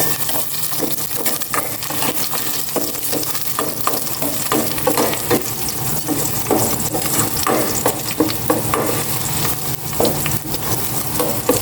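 Garlic sautéing in hot cooking oil in a home kitchen: a loud, steady sizzle with the scrape and tap of stirring running through the whole stretch, and no voices.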